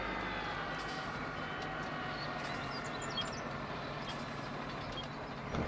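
A farm vehicle coasting downhill with no throttle in Farming Simulator 19: a steady, even rumble of rolling wheels and engine drone, holding at a constant level.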